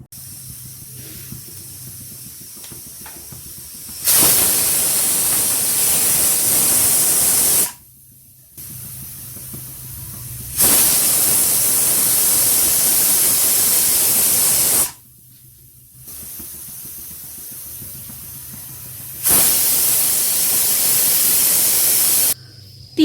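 A pressure cooker on the stove cooking a cauliflower kheema vents steam in three long, loud hissing bursts of about four seconds each, with short quiet gaps between them.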